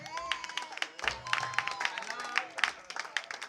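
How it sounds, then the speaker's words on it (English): An audience breaks into scattered clapping and light cheering during a talk about actors, the applause fairly faint and broken up under a speaking voice. "can we give a round of applause for Fela McAfee?"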